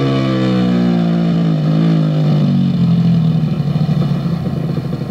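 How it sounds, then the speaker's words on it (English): A video game motorcycle engine drones with a steady tone, then its pitch drops and it turns rough and sputtery as it decelerates under engine braking. "where you would expect to hear an engine braking sound"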